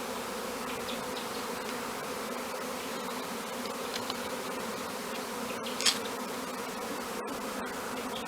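Bees buzz steadily and continuously in an outdoor setting, forming a dense, even hum with a brief louder pass near one insect.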